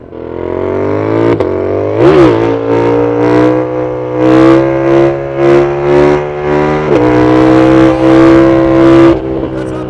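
Yamaha MT-07 2025 motorcycle engine revving hard during a wheelie, a loud close rising and falling roar with pulsing throttle surges and a brief drop before climbing again.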